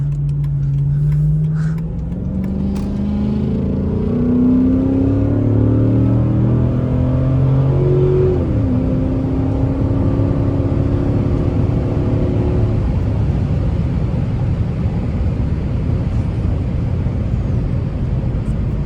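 A Chrysler 300 SRT8 engine revs up loudly through several gears, pitch climbing and dropping with each shift, then roars steadily at speed.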